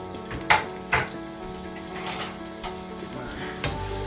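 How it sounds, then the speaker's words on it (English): Chopped onions for an Italian meatball sandwich fry in a pan with a steady, close sizzle, broken by a few sharp utensil clinks against the pan. "here's the onions I chopped up. I'm going to let that cook a little bit there."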